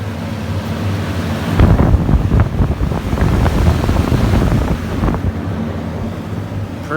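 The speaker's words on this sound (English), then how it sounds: "So I will be letting these fans do what they do today." Ventilation fans blow to purge the air, a loud rushing roar of moving air with gusty buffeting that swells midway and eases toward the end. No one speaks.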